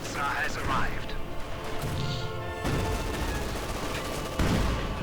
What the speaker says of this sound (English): and more field gun fire